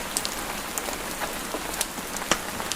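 Steady rain falls outside a countryside cottage, a dense even patter on surfaces with scattered sharper drips standing out, fairly soft and continuous with no voices.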